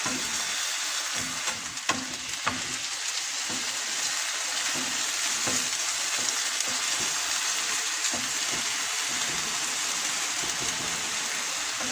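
Beef fries over very high heat for a coconut roast, giving a loud, dense, crackling sizzle that runs unbroken throughout with scattered sharper pops and no talking.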